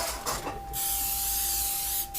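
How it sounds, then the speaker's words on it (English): Cooking oil sprayed from a can onto a pan being preheated, a short burst of soft hiss followed by a longer steady spray lasting over a second, close and fairly quiet, with a faint electrical hum underneath. "I will start off by preheating my pan and spraying it with a little bit of oil."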